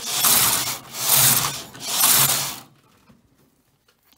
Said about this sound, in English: And I'm going to knit my four rows.